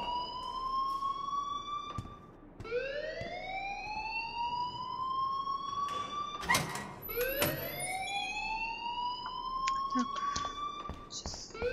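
A wailing school alarm in the video game Life is Strange rises and falls in repeated sweeping tones, loud and continuous, with voices talking underneath.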